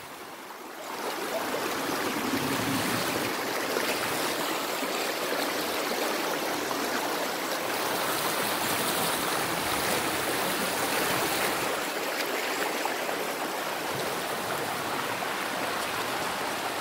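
A river stream flows steadily outdoors, a continuous broadband rush and trickle of water close by, with no voices.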